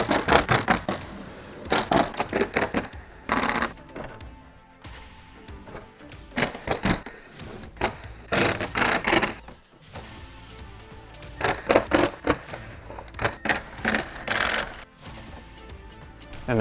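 Quick bursts of a powered driver back out 7mm and T15 panel screws on a C8 Corvette Z06, short whirring runs repeating in clusters with brief pauses between, close by and fairly loud.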